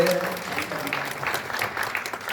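A seminar audience applauds steadily throughout, a dense wash of clapping from many hands with a voice briefly audible over it near the start.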